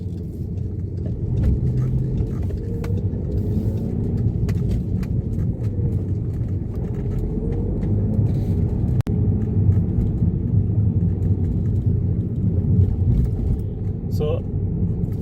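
Steady low engine rumble and road noise from a 2010 Skoda Superb diesel cruising toward a highway, continuous throughout with a brief click near the middle.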